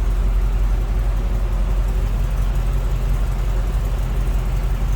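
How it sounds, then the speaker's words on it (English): A 1985 Chevrolet C10 regular cab shortbox pickup runs close by, its engine a steady, loud low rumble holding an even idle throughout with no talk over it. "Nice sounding truck too."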